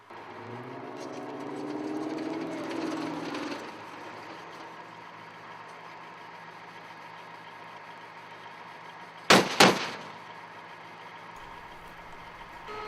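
Main 25mm cannon of an M2 Bradley in the Armored Warfare tank game, fired in two quick, sharp bursts close together near the end, over a steady engine rumble.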